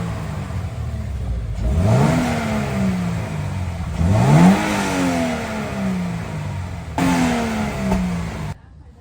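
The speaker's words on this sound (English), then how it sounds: "what it sounds like stock, cold start, what it sounds like revving" A Toyota GR86 on its stock exhaust revs up several times, each rise climbing in pitch and then falling back, loud and close over a steady idle.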